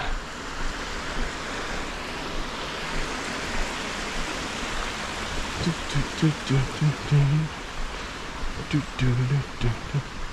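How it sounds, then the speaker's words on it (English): A river stream flowing beside a running path in Tokyo, a steady broadband rush of water that continues throughout, with faint voices and brief thumps appearing in the second half. "I need my river sounds, even if it's for a couple minutes"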